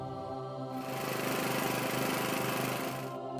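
A steady mechanical generator engine drone runs continuously, loud and close, with a rough rhythmic chug that swells slightly in the middle.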